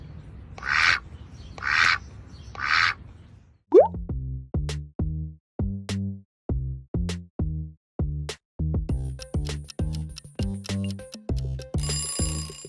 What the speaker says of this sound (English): Duck. If you missed that quack,